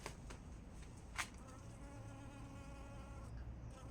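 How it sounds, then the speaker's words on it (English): A bee buzzes close by around a fruit flower, a continuous thin droning hum that wavers slightly in pitch as it hovers, with faint outdoor background. "there is a bee"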